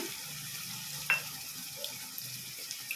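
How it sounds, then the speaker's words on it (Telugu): Ginger garlic paste fries with browned onions in a pan for a bottle gourd and prawn curry, a faint soft sizzle with a single sharp clink of the spoon and light stirring, no talk. "ఆనియన్స్ దోరగా వేగినాయి ఇప్పుడు అల్లం వెల్లిపాయ పేస్ట్ వేస్తున్నాను"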